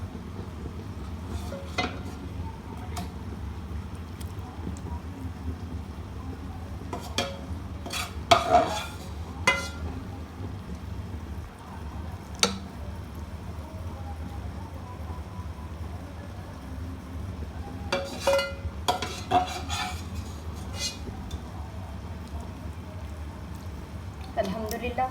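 A spoon scrapes and clinks against a pot as leftover rice is stirred into biryani, producing scattered metallic taps over a low hum, with a person talking throughout.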